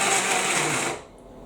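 A kitchen blender blitzes food in a short pulse, a loud, close whirring roar that cuts off abruptly after about a second, leaving only faint room noise.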